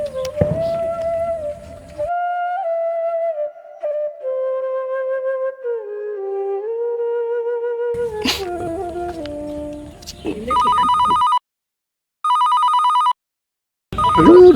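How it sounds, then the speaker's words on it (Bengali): A mobile phone ringtone rings loudly in three repeated bursts with short silent gaps, following a stretch of tonal, melodic sound. "ওর আব্বা ফোন দিচ্ছে আবার ফোন দিচ্ছে, আবার ধর"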